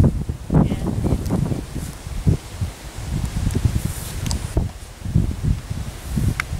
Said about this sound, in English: It's a bit windy though.